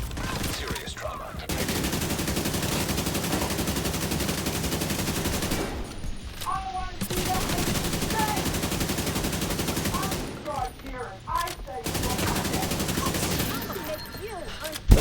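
Sustained blind firing in a video game: long stretches of rapid automatic gunfire broken by brief pauses, with a voice talking faintly at times.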